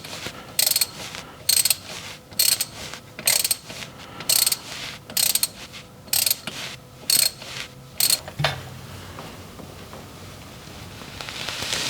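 A ratchet fitted with a 10mm hex socket loosens the transfer case fill plug on an AWD Kia Sportage, giving about a dozen loud, crisp bursts of clicking in a steady rhythm before the sound drops to a faint background hum.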